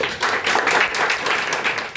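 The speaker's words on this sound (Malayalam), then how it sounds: "ഈ വിജയിക്കുന്നവർക്ക് ക്ലാപ്പ് കൊടുക്കാം" Applause for the winners of a Christmas carol competition, a lively crowd clapping steadily and loudly throughout, with slight surges in the rhythm.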